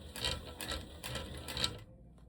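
A sewing machine running a long basting stitch across a skirt, a steady rapid mechanical rattle with slight pulsing, close and moderately loud, stopping abruptly near the end.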